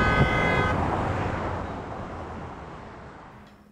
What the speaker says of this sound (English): a lot of truck drivers will give their loud horn beeps.